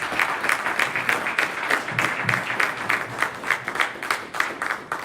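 Audience applause welcoming a spoken word artist at a keynote gathering, a sustained round of clapping from a sizeable crowd with rhythmic peaks, moderately loud and unbroken for several seconds.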